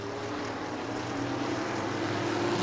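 Race cars roar together at New Smyrna speedway, a steady loud engine drone from the pack under way, with no voices over it.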